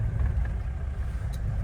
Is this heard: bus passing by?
yes